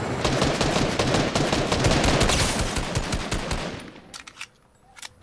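Automatic gunfire in the video game Fortnite, a dense rapid burst of loud close shots lasting several seconds before tapering off into a few scattered single shots.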